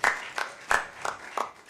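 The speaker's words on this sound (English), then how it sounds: "Please clap for our birthday girl." Audience applause for a birthday celebrant at a panel event on financing Africa's energy transition, a short burst of rhythmic group clapping with distinct beats, fairly close and not very loud.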